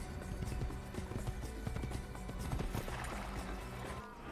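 In Assassin's Creed, a horse gallops with rapid, continuous hoof clatter and then skids to a stop, loud and close with some game background noise.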